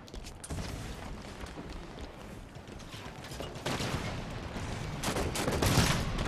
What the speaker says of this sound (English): that can be expected when you get shot at with a very powerful cannon